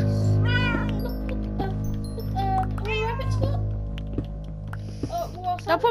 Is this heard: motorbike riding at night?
no